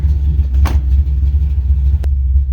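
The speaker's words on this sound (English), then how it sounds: "Got her idled down, idling on her own." An old truck engine idles on its own after warming up, close by with a steady low rumble, punctuated by a couple of brief clicks or knocks.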